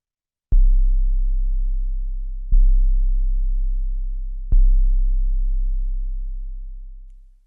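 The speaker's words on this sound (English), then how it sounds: "Now that's a hard hitting 808" Three hard-hitting analog 808 bass drum hits built from synthesizers, each a sharp click into a deep booming tone that sustains and slowly decays, evenly spaced about two seconds apart.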